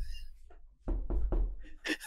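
Knocking on a door in the CS:GO video game: three or four firm, closely spaced knocks, loud and near, with faint game noise before and after.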